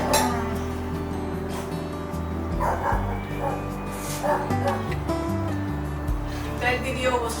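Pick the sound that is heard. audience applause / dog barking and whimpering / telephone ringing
dog barking and whimpering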